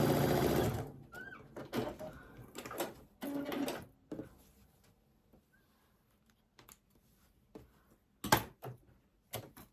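A sewing machine stitching quilt blocks in short bursts of rapid mechanical whirring, separated by pauses filled with quiet clicks and handling noises.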